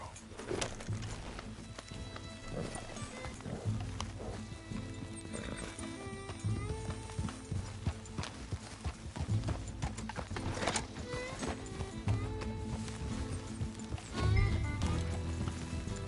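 Hooves clip-clop in a steady galloping rhythm in Red Dead Redemption 2, with a horse neighing loudly over the top amid game music and effects.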